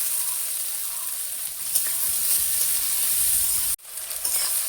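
Tomatoes and potatoes fry in hot oil with a loud, steady, close sizzle that runs unbroken until a momentary cut near the end, then resumes, with no voices.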